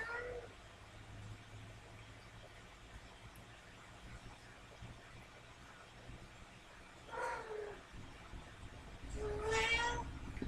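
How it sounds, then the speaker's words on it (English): A pet cat meows twice in a room, the first cry short around the seven-second mark and the second a longer, louder wavering yowl near the end, both over a quiet background hum. "You're going to have to ignore my cat."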